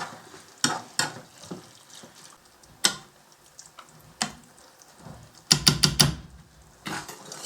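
Grandma's goulash being stirred in a pan, with scattered scraping and clattering strokes of a spoon against the pan over a soft low simmer, a quick burst of rapid scrapes near the end.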